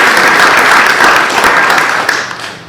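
Sustained applause from an audience at a school board of education meeting, dense and steady clapping that fills the room before tapering off near the end.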